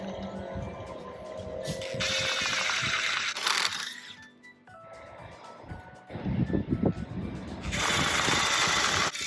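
A power drill bores a 9 mm hole for an M8 bolt while a side guard is fitted to a Nissan NV100 Clipper kei van. Two loud, close drilling bursts are separated by a quieter gap, with someone talking over parts of it.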